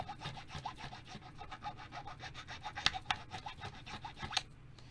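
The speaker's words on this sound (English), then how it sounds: "That's going to make this filing process go quicker." Metal file rasping over a jewelry bezel setting to smooth it, heard as steady back-and-forth scraping strokes at close range with a few sharper metallic scratches, no talking.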